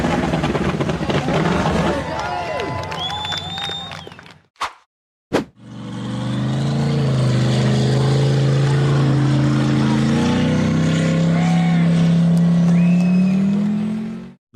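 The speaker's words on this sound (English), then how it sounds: "The blue and orange buggy aggressively powered up the near vertical sand dune, kicking up a massive cloud of dust." A blue and orange off-road buggy engine roars as it powers up a near vertical sand dune, loud and close with a sustained droning growl, briefly cut by gaps, amid crowd noise and shouting.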